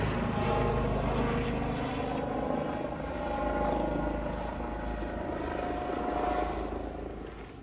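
A helicopter circles overhead and comes in to land, its loud rotor and engine drone filling the air steadily before easing slightly as it settles, with no voices over it.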